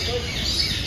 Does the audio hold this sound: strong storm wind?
no